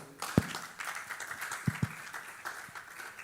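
Light, scattered clapping from a small group, a few sharp claps standing out over a soft continuous patter.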